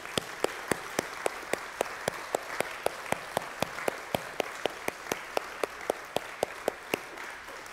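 A church congregation at a Sunday morning service claps in unison, in a steady, evenly spaced rhythm of sharp beats over softer scattered clapping, heard faint and somewhat distant.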